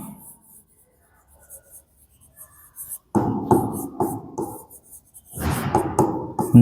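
Pen scratching on paper in short bursts, faint at first and then louder and closer in two longer stretches, with a soft voice briefly audible early on.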